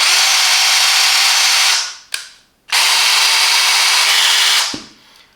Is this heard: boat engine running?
no